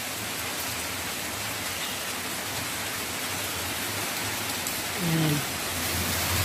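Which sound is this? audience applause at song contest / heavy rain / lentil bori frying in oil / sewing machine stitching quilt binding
heavy rain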